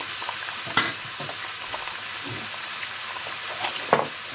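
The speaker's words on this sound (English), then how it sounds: "Now you wait for the meat and the egg to cook." Meat and an egg fry together in a hot pan for a burger, a bright continuous sizzle with a few faint taps and scrapes.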